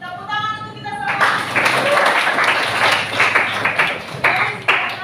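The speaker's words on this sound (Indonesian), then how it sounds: "tepuk tangan untuk kita semua." Classroom of students clapping together after the teacher's cue, a dense burst of applause that starts abruptly and carries on steadily, with a voice speaking briefly at the start.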